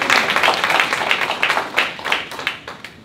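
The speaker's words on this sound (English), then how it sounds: "Give her a round of applause." An audience claps at a Life in the Spirit seminar, a dense, continuous round of applause that swells and ebbs for a few seconds with no speech over it.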